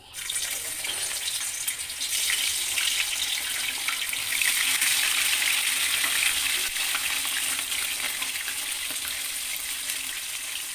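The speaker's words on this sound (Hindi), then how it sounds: "एबे आमे कोबी को छाणीबा। तेल तो गरम हो आसला" Cabbage frying in hot oil for chili cabbage, a steady loud sizzle and crackle that swells after the first seconds and continues without pause, with no talking.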